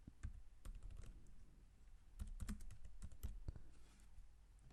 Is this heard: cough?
no